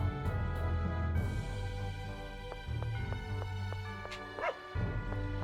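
A dog barks in the PS2 game Tales of the Abyss, a series of short yipping barks over steady background game music, with no one speaking.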